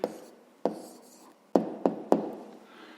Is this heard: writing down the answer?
yes